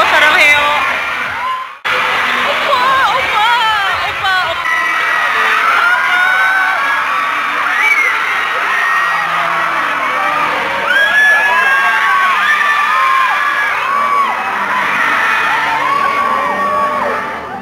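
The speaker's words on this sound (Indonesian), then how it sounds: "Jadi mereka ini lagi teriak-teriak opa-opa" A large crowd of young fans at a concert during the Asian Games 2018 Asian Fest, loudly cheering, screaming and chanting together in a dense, continuous roar that barely lets up.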